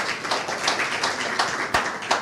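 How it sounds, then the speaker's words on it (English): Scattered hand claps patter across a room in a loose, uneven rhythm, a small group applauding at moderate volume. "Give you guys a applause"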